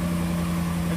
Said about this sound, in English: I just started the car there, you can hear it in the background.